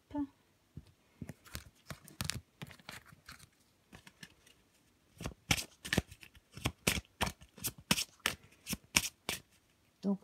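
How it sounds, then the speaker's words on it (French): A deck of tarot cards is shuffled by hand in a run of crisp, riffling bursts that speed up into a rapid rhythmic patter near the end, close and fairly quiet, with no talking. "je brasse mes cartes"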